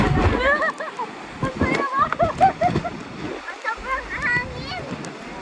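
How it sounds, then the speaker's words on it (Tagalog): Gusty wind by the sea roars steadily across the microphone with a rushing, surf-like wash, while several people talk over it close by. "Sobrang lakas ng hangin."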